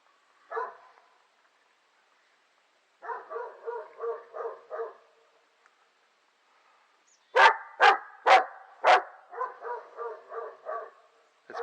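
A dog barks in short bursts with pauses between, some yips and sharper louder barks, in an open, quiet setting with no talking.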